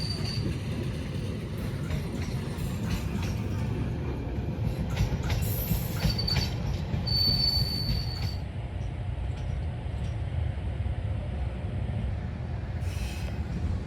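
The Gajah Wong train, hauled by a CC 203 locomotive, rumbles steadily nearby while being shunted, with a low rolling roar throughout and brief high metallic squeals from the wheels partway through.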